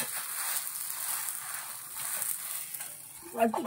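A flatbread cooks in a pan with a very small amount of oil after being flipped, giving a faint, steady sizzle, with a brief louder scrape or clatter near the end.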